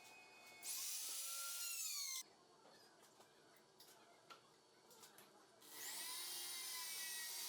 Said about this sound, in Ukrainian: Тепер потрібно просверлити отвори для закріплення щита на станині.